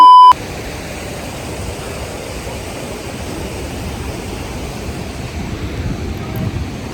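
Rushing water of Jogini waterfall near Manali pours as a steady broadband hiss right after a brief electronic beep, constant and moderately loud, with wind buffeting the microphone.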